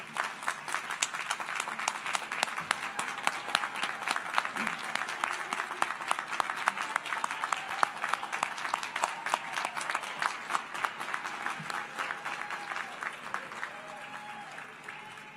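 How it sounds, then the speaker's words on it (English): At a 2021 college commencement for business and health sciences graduates, a large audience applauds in sustained, crisp clapping with distinct individual claps standing out, continuing for about fifteen seconds and thinning slightly toward the end. "Please stand up and take a bow as we all applaud you."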